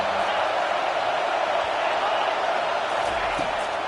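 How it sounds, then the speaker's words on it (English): A football stadium crowd on third down, a steady broad roar of many voices sustained throughout at high level, with no clear speech over it. "Decibels rising as the crowd gets behind this defense on 3rd down."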